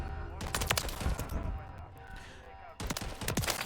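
Automatic gunfire shooting through a wall in Modern Warfare 3, heard as rapid bursts of shots in two clusters with a short gap between them, moderately loud, while a person talks over it.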